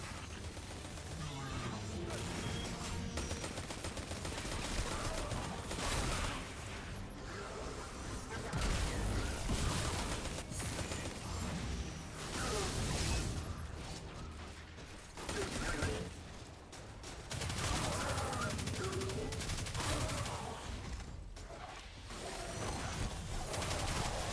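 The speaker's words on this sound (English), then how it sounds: "these submachine guns are very, very high damage at close range" Close, continuous submachine gun fire and mechanical weapon clatter from the shooter Destiny 2, sustained loud bursts running nearly without pause amid game-combat noise.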